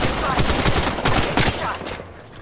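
Rapid bursts of gunfire from the mobile shooter game Apex Legends Mobile, dense overlapping shots in quick succession, loud and close, tapering off toward the end.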